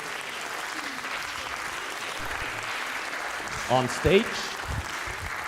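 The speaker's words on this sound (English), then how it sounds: "a long, ecstatic applause is carrying them" Sustained applause from a live audience at a science show, steady clapping filling the whole stretch, with a voice briefly speaking over it from the stage.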